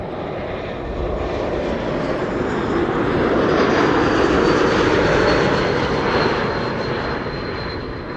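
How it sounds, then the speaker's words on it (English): A passing airliner with geared turbofan engines roars loud and close, swelling to a peak mid-pass with a high steady whistling tone riding over the broad engine rush before it fades slightly. "It's the geared turbofan engines that make these sounds."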